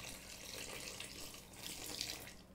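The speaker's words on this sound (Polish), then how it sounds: "I kiedy sól już jest z wodą wymieszana, leci do zaczynu." Salted water is poured into a pizza dough starter, heard as a steady, soft, continuous stream of liquid flowing at low volume.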